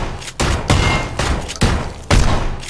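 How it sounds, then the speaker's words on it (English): Gunfire in the battle royale game PUBG, including a sawed-off shotgun nearby: a burst of four heavy, booming shots at irregular intervals, each ringing out loudly before the next. "Oh, that's a holy fuck gunshot"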